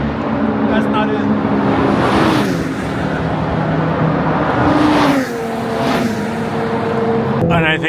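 Race cars at Fuji Speedway roar past one after another, their engine notes rising and falling as they pass. The sound is loud and continuous, and a person talks over it.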